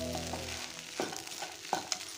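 Poha with peanuts fries in a pan, a quiet sizzle broken by a few sharp scrapes and knocks of a spatula mixing the flakes, no talking.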